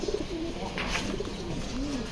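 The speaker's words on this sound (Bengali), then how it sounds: "এই যে তার মাদি কবুতরটা দেখেন" Pigeons cooing softly from close by, with a few low, rolling coos over a steady background hiss and no speech.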